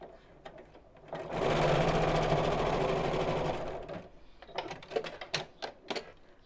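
A sewing machine stitches a fabric biscornu pouch in a short, steady burst of rapid mechanical whirring, then falls quiet amid a few light clicks and handling taps.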